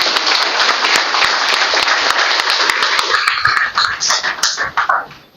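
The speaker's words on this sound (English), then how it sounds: "So let's have a big round of applause." Sustained audience applause at a national-level hackathon event, a dense wash of many hands clapping that holds steady, then thins into scattered claps and fades near the end.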